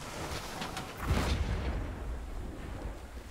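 A single deep boom like a cannon shot from a ship's front cannon in the game Blazing Sails rolls out and fades over a steady background rumble, with no voices.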